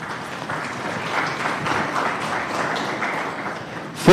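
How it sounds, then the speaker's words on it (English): Audience applause at a medical conference honoring a gynecologist, a steady, dense wash of many hands clapping for about four seconds without talk. "Give him a big clap."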